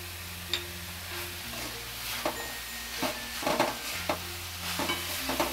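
A spoon stirs salt through a sprouted matki and moong dal mixture in a pan, making repeated soft scrapes and light knocks at close range under a faint steady background hum.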